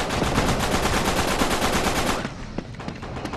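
Automatic gunfire in the online shooter Uncharted 3 rattles in a dense, loud sustained burst for about two seconds, then breaks into a few sparse, quieter shots.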